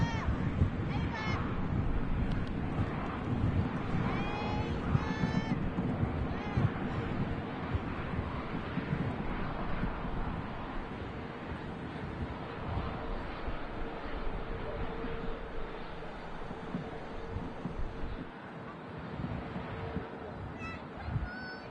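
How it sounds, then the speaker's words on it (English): Wind blowing across the airfield at Manchester Airport: a steady, loud broadband rush with low rumbling gusts that persists for the whole stretch, with no clear voices. "the wind has picked up as well"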